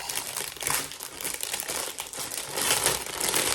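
Crinkly plastic packaging from a diamond painting kit is handled and crumpled close up, a continuous dense crackling that swells louder toward the end, with no voices.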